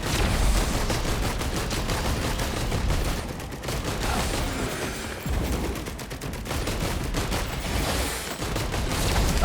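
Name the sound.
gunner turret firing in video game Risk of Rain 2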